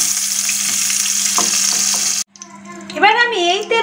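Chopped onions frying in oil in a pan for a Bengali cauliflower korma, a dense steady sizzle for about two seconds that cuts off abruptly, followed by a person speaking.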